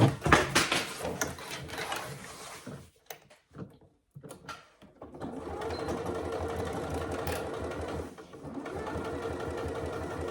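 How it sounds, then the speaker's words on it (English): A sewing machine runs a seam along the bottom edge of a fabric wash bag, opening with a loud burst of stitching, pausing briefly with a few faint clicks, then resuming in a steady, continuous hum up close. "Now I'm going to sew along the bottom edge."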